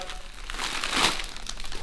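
Crinkling of a plastic bag holding a puppy, a steady rustle running through the whole stretch that swells to its loudest near the middle, with no talk over it.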